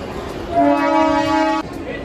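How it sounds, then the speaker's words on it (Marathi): A train horn blares in a single loud, steady blast lasting about a second, close by over the murmur of a crowded roadside. "ट्रेन पण आले त्या साईडला 7ला."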